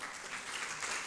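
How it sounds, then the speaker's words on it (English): Brief burst of clapping from a church congregation, fairly faint and evenly sustained, as in a large room. "Yeah, you can clap."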